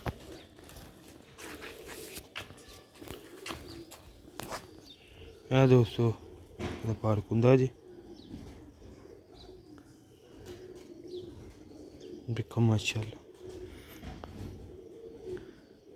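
Ferozpuri pigeons, a high-quality breed, coo in several short bursts near the middle and again toward the end, close by, while someone talks over and between the calls.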